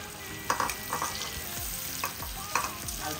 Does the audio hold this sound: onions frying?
yes